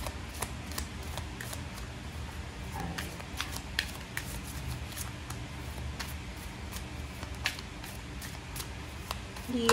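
Soft, crisp riffling of tarot cards being shuffled, quiet papery flicks repeating irregularly at close range.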